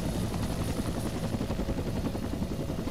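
A helicopter in the video game ArmA 2 spins up, its rotor producing a continuous low, rhythmic thrumming with a steady engine drone, close and loud throughout.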